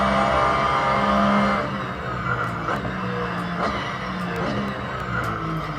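A race car's engine in the Assetto Corsa video game on Xbox One roars at high revs, then drops and shifts with tire squeal and quick gear changes, loud and continuous throughout.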